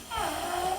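A person snoring while asleep, a single drawn-out rasping snore lasting nearly a second, close and moderately loud with no talk over it.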